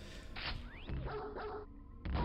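A dog enemy in the video game Quake lets out a few sharp, close barks and yelps between other game sound effects, with short gaps and a final burst at the end.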